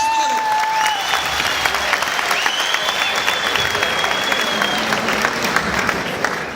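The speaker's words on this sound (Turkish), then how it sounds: "kocaman bir alkış" Loud, sustained applause from an audience at a Turkish event, dense clapping filling the whole stretch, with some whistles and cheering mixed in.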